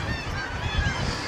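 A dense seabird colony calling at day's end on Hornøya, Varanger, in Arctic Norway, a thick continuous wash of overlapping cries with a few louder honking calls rising close by.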